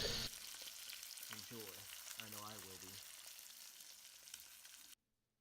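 A steak sizzles steadily in a hot pan, a constant close crackle and hiss, while a faint voice-like tone rises briefly in the background before the sound cuts off.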